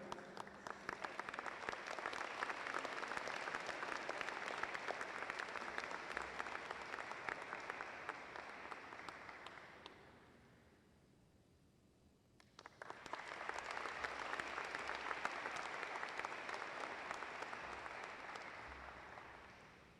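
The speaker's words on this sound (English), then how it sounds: "Let's give Luke a round of applause." An audience at a college honors convocation applauds for an honored student: steady, fairly faint hall clapping that fades to near silence midway, then swells again and tapers off.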